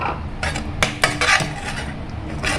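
A utensil scrapes and clatters against a metal pan in quick irregular strokes while frying masala paste, close and fairly loud, with no speech.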